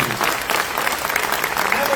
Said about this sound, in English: Give the leadership team a round of applause.